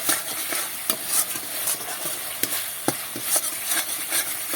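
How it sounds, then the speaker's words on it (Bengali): A spice paste with tomato ketchup being stir-fried in a pan for a potato and pointed gourd curry. A soft sizzle runs under frequent sharp spatula scrapes and taps at an irregular rhythm. "এবার ভালো করে মশলাটা কষিয়ে নেব"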